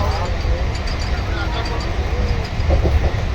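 Rattling, rumbling interior noise of a moving train, steady and close, with brief voices audible over the clatter.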